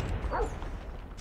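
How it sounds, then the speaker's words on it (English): A dog in the mobile shooter Call of Duty Mobile lets out a quick bark or yip, brief and mid-loud amid in-game noise. "That is a dog. That is a dog!"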